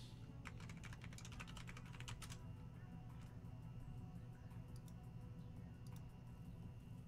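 Rapid keyboard typing in bursts of clicks at the start and again near the end, over a steady low hum of room or computer noise, with no talking.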